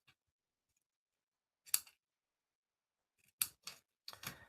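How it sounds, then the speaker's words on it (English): Scissors trim the edges of a handmade birthday card, heard as a single crisp snip followed after a pause by a quick run of three or four close, sharp cuts in a quiet room. "So I'm just going to trim the edges slightly."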